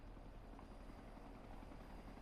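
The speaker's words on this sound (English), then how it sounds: "it's a helicopter" Helicopter in the video game Onechanbara Z2: Chaos, a steady low rotor drone with a faint rhythmic chop that holds at a moderate level throughout, with no voices over it.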